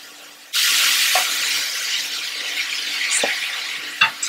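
Ground pork frying in MCT oil in a pan: a loud, steady sizzle bursts in and holds throughout, with a few sharp squeaky clinks of utensil against the pan mixed in.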